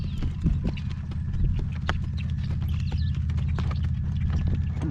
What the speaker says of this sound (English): This horse has a walk and a half on him.